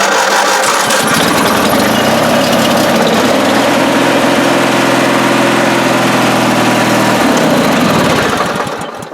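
A free lawn tractor's small engine, on full choke, sputters and then catches, running steadily and loudly up close for several seconds before the sound begins to fade near the end.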